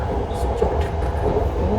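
A Red Line commuter train runs past at speed, a steady loud low rumble with rail noise filling the whole moment, with faint voices underneath.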